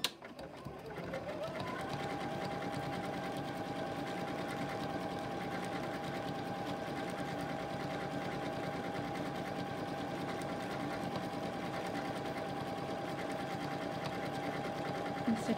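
A Continental M17 sewing machine stitching out decorative stitches: a steady, loud, continuous mechanical hum with a rapid needle rhythm that runs unbroken for the whole stretch after a brief start-up.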